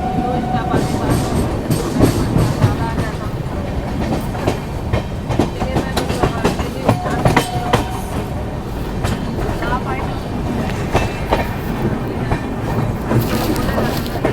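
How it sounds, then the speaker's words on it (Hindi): The 12165 GKP SF Express rumbles continuously along the rails with rhythmic clickety-clack and a brief whistle-like tone, loud and close throughout, while people talk faintly underneath. "इधर ही सामने ट्रेन है।"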